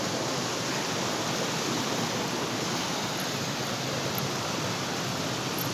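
Water flows steadily at the Khuriya Rani temple in Chhattisgarh, a constant broadband rushing hiss like a cascade, even and unbroken from start to finish with no clear voices over it.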